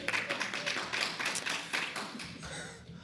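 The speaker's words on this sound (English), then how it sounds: "please refrain from applause until everybody is finished" An audience applauds at a candidate forum, a soft, steady patter of many hands clapping from across a room for a few seconds, fairly distant and quiet.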